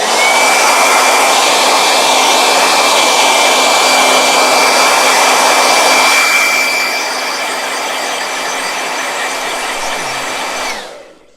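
A blow dryer runs loud and close with a steady whining roar, then drops to a lower setting partway through before cutting off at the end.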